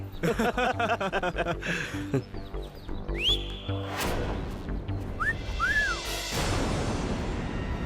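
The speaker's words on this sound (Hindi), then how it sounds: "सीटी किसको मारा बे?" In an Indian TV drama scene, someone whistles: a few short rising and gliding whistle notes, one sustained and then two quick ones, over background sound and music.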